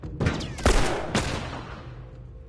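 Gunfire in The Last of Us game: a couple of sharp shots within a few seconds, each ringing into a fading echo, loud and close with no talk over them.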